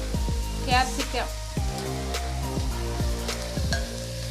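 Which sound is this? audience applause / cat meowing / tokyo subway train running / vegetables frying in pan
vegetables frying in pan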